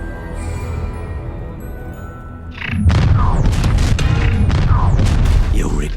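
Confringo fire spell blast in the video game Hogwarts Legacy, a sudden loud boom followed by a roaring, crackling burst with sharp pops that sustains for several seconds after a quieter stretch.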